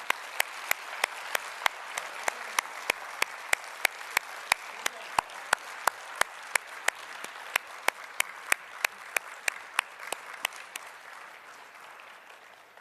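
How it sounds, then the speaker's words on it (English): A crowd claps in sustained, even applause at a book launch event, keeping a steady level and then tapering off near the end. "Please give a huge round of applause."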